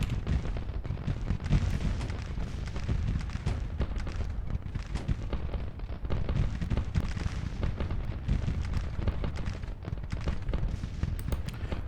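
Massed artillery fire rumbles in a Civil War strategy battle from Grand Tactician: The Civil War, a dense, continuous roll of distant booms and crackling volleys at moderate loudness with no talk.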